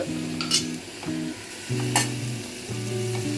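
Crushed ginger and garlic sizzle in hot oil for a spinach sambar, with a spoon stirring and scraping the pan in a few short bursts over the steady frying crackle.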